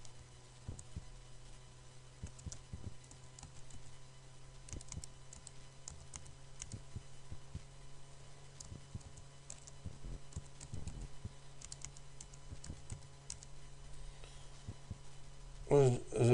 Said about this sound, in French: je tape un mot de passe pour accéder à la zone admin